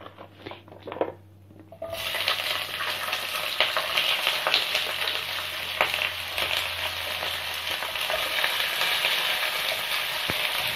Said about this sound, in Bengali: এইবার আমি এর মধ্যে শিমগুলোকে দিয়ে দেবো।